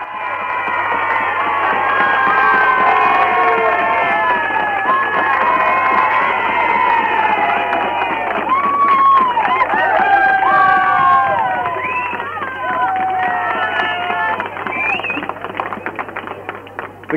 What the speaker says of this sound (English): It's rare you hear a Manx politician's name being chanted by a Manx crowd.